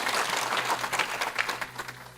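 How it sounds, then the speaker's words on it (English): A crowd claps and cheers at a campaign event where a retired Green Beret announces a run for Texas governor, with dense, uneven applause rising and falling for a couple of seconds. "those guys deserve a round of applause"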